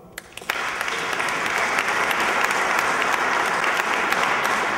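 After a few scattered claps, an audience at a short-story award reading breaks into sustained, even applause that holds steady and fairly loud to the end.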